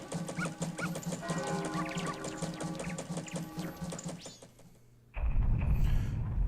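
Dog barking in the video game Majora's Mask, a quick run of short, repeated yips over game music, then cut off by a sudden loud rumbling noise near the end.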